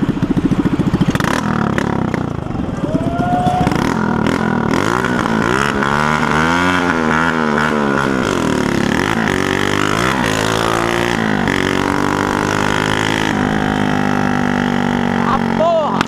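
A motorcycle engine revs hard and steadily, its exhaust crackling and popping through repeated rising and falling pitch sweeps, loud and close throughout with brief talk near the start.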